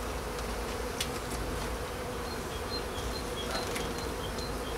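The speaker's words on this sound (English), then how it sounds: "the bees are really good since I've disturbed them" Disturbed honey bees buzz at an open hive during an early-spring inspection, a dense, constant, close drone with individual bees whizzing past. No voices can be heard.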